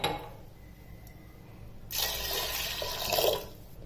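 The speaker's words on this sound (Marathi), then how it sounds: "डाळीच्या तिप्पट पाणी घालायचं" Water pours steadily into a pot of freshly washed lentils, a rushing splash that rises midway and fills for about two seconds before easing off.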